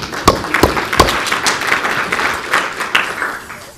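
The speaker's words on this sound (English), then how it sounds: "So a round of applause for those guys." Conference audience applauding sponsors, a steady wash of many hands clapping at moderate loudness, with a few sharper claps standing out near the start.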